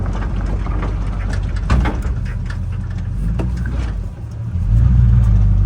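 1973 Chevrolet El Camino V8 engine, with an automatic transmission that may be a 350 Turbo, driving and turning around: a loud, close, steady low rumble that dips briefly, then swells as the engine revs up.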